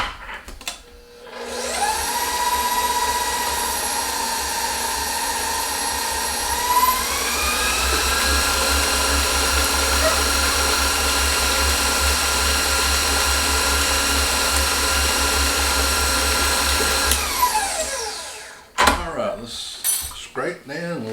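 A stand mixer with a paddle churns cheesecake batter with a lemon added, a loud steady motor whine that shifts pitch partway through, then stops near the end as utensils clatter.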